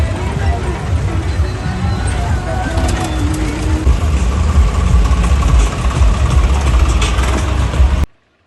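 A heavy tractor engine rumbles steadily at idle during a tractor march, loud and close, with a faint background murmur, cutting off abruptly at the end.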